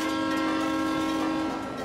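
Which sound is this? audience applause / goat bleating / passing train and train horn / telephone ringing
passing train and train horn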